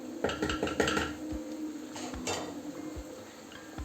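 Stewed chicken hearts being stirred in a pan, with clattering utensil knocks and scrapes against the pan over a low simmer, loudest early and then sparser.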